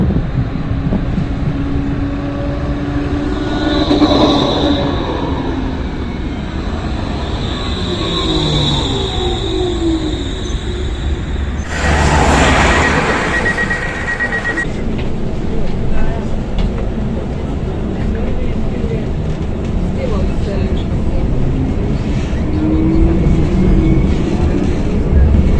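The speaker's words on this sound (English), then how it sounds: "let's now take a look at the new trams, which are the Stadler Tango trams." A Stadler Tango tram passing through Sarajevo, a steady loud rumble with rail noise and wind across the microphone, rising in a brief broadband surge midway, while a person talks over it.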